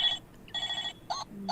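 A novelty telephone ringtone called Telelet plays in short bursts of bright, warbling electronic tones, with pauses between rings, fairly close and clear with no talking over it.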